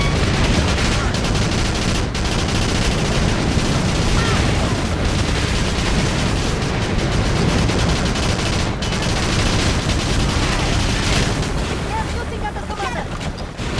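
Gunfire rattles through a video game battle against a gunship, a dense, continuous barrage blended with a roaring wash like engines and surf that stays loud for the whole stretch.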